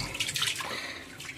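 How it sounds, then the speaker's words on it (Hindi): Water gushes and splashes steadily out of a leaking washing machine drain pipe at the back of the machine, a continuous close-up pouring sound. "ये पीछे वाला जो ड्रेनेज पाइप होता है इस पाइप से ये बह रहा है"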